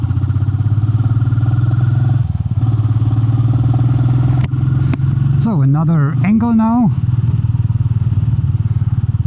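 Motorcycle ride filmed with an Insta360 X4 camera: a loud, steady engine drone with wind runs throughout, while someone talks over it, with a brief gear-change-like rise in pitch midway.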